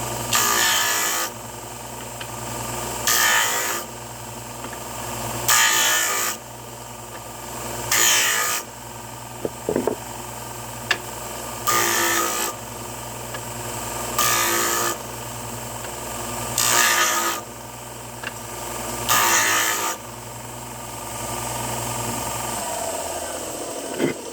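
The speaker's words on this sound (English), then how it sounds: "Let me sand and see where I'm at after that." A power sander works over a wooden jewelry box in repeated passes: the motor hums steadily, and loud grinding bursts recur every couple of seconds as the tool presses into the wood, with brief lighter moments between passes.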